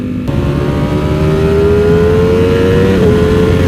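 A Ducati V4 SP motorcycle fitted with a Termignoni titanium exhaust revs hard nearby, its loud engine note climbing steadily in pitch and then dipping briefly near the end, with no voices.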